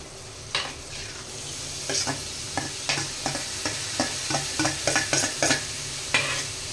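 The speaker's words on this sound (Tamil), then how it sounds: "தக்காளி போட்டு நல்லா வதக்கிடுவாங்க." Tomatoes and green chillies are sautéed in a pan for an egg masala gravy, with a constant sizzle under a series of sharp spatula scrapes and taps, close and clear, no voices.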